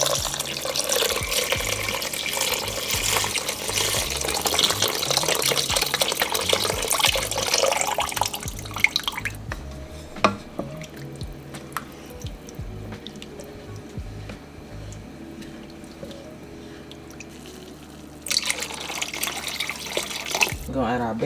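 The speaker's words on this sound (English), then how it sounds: "We're going to add this whole 32 ounces of chicken broth" Chicken broth is poured from a 32-ounce carton into a soup pot with a steady, splashy liquid rush for several seconds. It stops, goes quiet and briefly starts again near the end, while someone talks.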